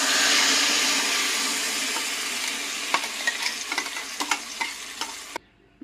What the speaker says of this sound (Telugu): ఇవి వేసేసి కరివేపాకు వేసేసి చిటిపట్లు ఆడిన తర్వాత మనం ఈ పచ్చడిని ఇందులో వేసేసుకుందాం